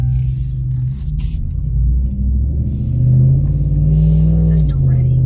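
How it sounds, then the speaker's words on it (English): A 2019 Ram 1500 pickup with its muffler and resonator removed, its exhaust rumbling loud and close with a deep low drone that rises and falls as the engine revs, then settles. "how a car sounds once it drives with muffler and resonator delete"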